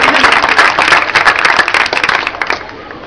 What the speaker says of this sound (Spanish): Gracias al señor Carlos Uriñuz, aplausos para él, por favor.